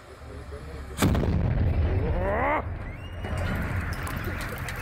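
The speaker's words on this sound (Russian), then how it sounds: "Именно в этот момент гремит взрыв." A burning Lada Priora car explodes with a sudden loud blast, followed by a sustained roaring rumble and crackle while bystanders' voices and a whistling tone are heard in the background.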